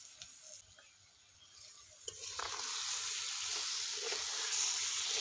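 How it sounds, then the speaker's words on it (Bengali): Sugar poured into softened, boiled mangoes cooking in a pan for a sweet-sour-spicy mango pickle, giving a steady, close sizzle and stirring hiss that swells after a soft start, with no talking. "এবার এর মধ্যে আমি দিয়ে দিচ্ছি চিনি। আমি 1 বাটি চিনি দিচ্ছি।"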